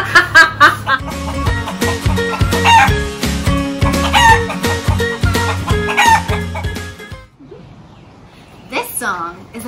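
Imitated chicken clucks and rooster crows from voices in an early childhood music group, a string of rhythmic, bright calls over music, followed by a quieter stretch and a brief final burst.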